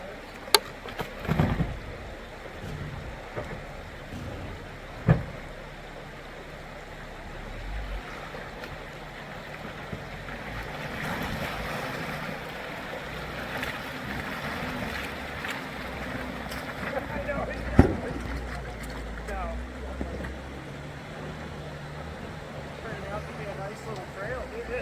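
Vintage 4x4 off-road vehicles driving up through the Virgin Creek on a Rattlesnake Gulch trail, with a low engine rumble, rushing and splashing water, and a few sharp knocks, while someone talks over it.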